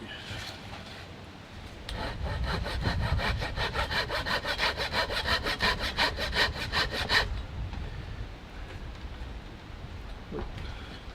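Hand sawing through a piece of wood for a homemade buck saw, a steady rhythmic run of about twenty back-and-forth strokes, close and clear, then stopping with quieter handling after.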